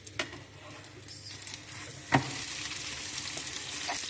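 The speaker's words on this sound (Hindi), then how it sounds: "दोनों साइड से अच्छी तरह से पराठे को फ्राई कर लेते हैं" An aloo matar paratha frying in desi ghee on a griddle gives a soft, steady sizzle that grows fuller after a sharp knock midway as the paratha is turned.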